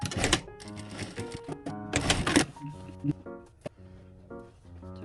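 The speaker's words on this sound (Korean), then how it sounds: "지금 여기 박음질 됐던 요 선만큼만 다시 박음질 해줄게요" A sewing machine restitches the lining seam of a coat in short bursts, with clattering mechanical runs, pauses and a few sharp clicks, close up and fairly loud.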